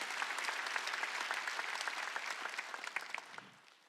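A church congregation claps together during a Wednesday worship service at Jesus Centered Church, a loud and dense roar of many hands that holds steady, then breaks into a few last claps and fades out.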